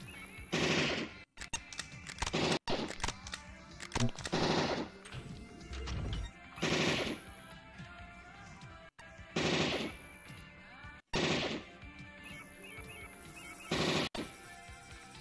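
Bursts of machine gun fire from the video game Low-Fi sound in short repeated volleys, about six of them with brief gaps in between, loud and close.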